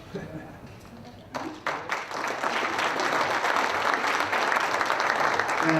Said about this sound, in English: big round of applause for Gina, Glenne, U.S. Fish and Wildlife Ser